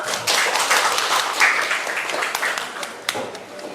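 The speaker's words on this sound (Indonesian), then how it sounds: "Tepuk tangan untuk Ulfatul." A classroom of students claps together, a dense, steady patter of many hands at moderate distance with a few sharper claps near the end.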